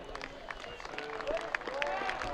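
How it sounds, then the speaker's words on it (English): Soccer fans on their feet applauding a 4-0 homecoming weekend win by the RPI Engineers, a steady spread of clapping and crowd murmur at moderate distance, with a commentator's voice audible over it. "fans on their feet and applauding the effort here by these Engineers on homecoming weekend."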